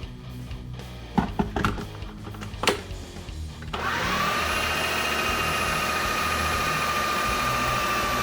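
A stand mixer kneads pasta dough made with eggs and olive oil, starting with a few clunks and knocks before the motor spins up into a steady, loud whirring drone that lasts to the end.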